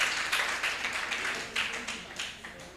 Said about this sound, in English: Let's clap for them again as they walk to the stage.